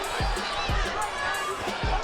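Arena crowd at a professional boxing match roars and cheers in a steady swell, punctuated by a few dull low thuds.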